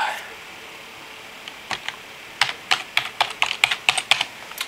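Typing on a new computer keyboard, faint room hush at first, then sharp individual key clicks in a quick irregular rhythm, close and distinct.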